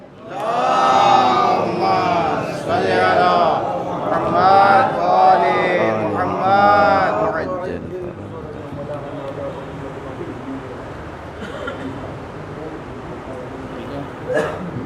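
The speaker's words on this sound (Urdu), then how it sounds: "آپ حضرات سے گزارش ہے کہ مولانا موصوف کا استقبال نعرے بلند صلوات سے کریں" A congregation at an Islamic majlis gathering loudly chants salawat in unison to welcome the visiting Maulana. Several strong rhythmic calls of many voices are followed by a lower murmur of crowd noise.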